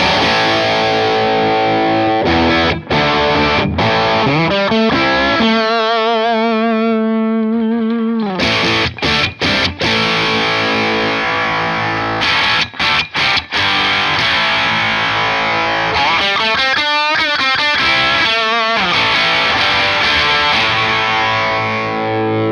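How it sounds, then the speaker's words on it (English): An electric guitar plays through a Boss distortion pedal, loud and heavily saturated, with strummed chords and ringing sustained notes while the pedal's tone control is raised from darker low settings toward harsher, nastier ones. "I'll start off with the tone control pretty low on the lower settings and then raise it up to those nastier settings"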